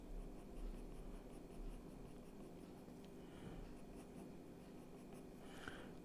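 A Polychromos colored pencil moves across paper while fur is drawn, giving a faint, close scratching that comes and goes in short strokes against a quiet room.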